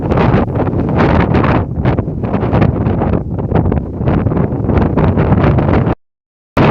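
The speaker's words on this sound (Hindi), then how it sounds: "यहाँ इतनी तेज़ हवा चल रही, वहाँ तो और भी तेज़ है।" Loud, gusty wind buffeting the microphone in continuous roaring blasts, cutting out briefly near the end.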